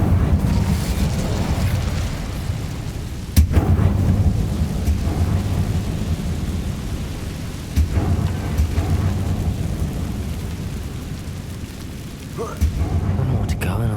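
Fire spell cast in the Hogwarts Legacy video game, a sustained roaring low rumble with sharp bursts at intervals, loud and continuous like a blaze or blast.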